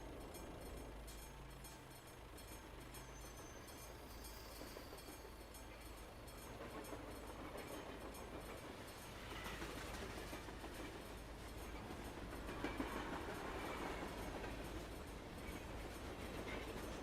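Train rolling past in the Euro Truck Simulator 2 driving game, a long steady rumble with rail clatter that swells toward the end, heard alone without talk.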